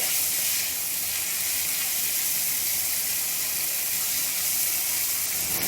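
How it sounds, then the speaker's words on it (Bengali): Small chuno fish frying with onion and garlic in a pan for a Bengali chorchori give off a loud, continuous bright hiss of oil, steady and close throughout without pause or voices. "চুনো মাছটা পেঁয়াজ এবং রসুনের সঙ্গে ভালো করে ভেজে নেওয়া হয়ে গেছে"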